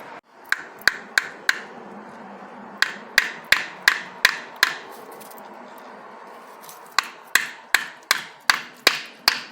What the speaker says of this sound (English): just to nip up these bolts just in case they've loosened up